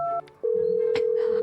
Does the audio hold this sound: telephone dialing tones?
yes